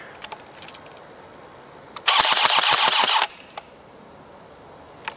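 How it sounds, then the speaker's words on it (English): A King Arms M4A1 airsoft rifle fires one loud full-auto burst of rapid mechanical cracks lasting about a second, with quiet handling clicks before and after. "now let's test the rate of fire"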